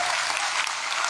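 A Kavi Sammelan crowd in Patna applauds at a Hindi poetry recital, a dense, steady wash of clapping that fills the whole moment without a break.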